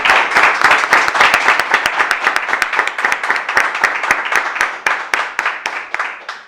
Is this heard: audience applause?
yes